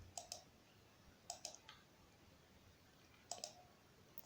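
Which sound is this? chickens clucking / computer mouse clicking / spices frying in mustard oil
computer mouse clicking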